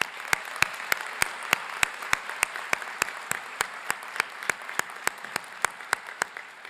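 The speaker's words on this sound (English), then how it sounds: "Let's give them all a round of applause." Steady applause from a sizable college commencement ceremony audience, with regular sharp claps cutting through the dense wash of clapping, continuous throughout.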